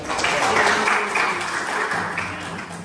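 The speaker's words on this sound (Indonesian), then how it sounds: "Tepuk tangan untuk Mbak Yesi." A group applauds a student at a school environmental training session, a short burst of clapping that fades as a voice speaks over it.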